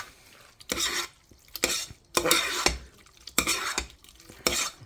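Annie's shells and white cheddar macaroni stirred in a pot, with a utensil scraping and knocking against the metal in irregular bursts, close and fairly loud, with quiet pauses between strokes.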